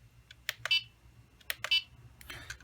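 Headless-mode beeping from an XK X260 RC quadcopter, two clusters of short sharp electronic beeps about a second apart followed by a clicking burst, close and alone over a faint low hum.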